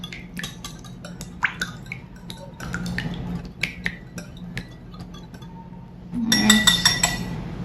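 An egg and vanilla mixture is whisked in a glass bowl, giving quick irregular clinking taps of the whisk against the glass, close by, with a busier burst of clinks near the end.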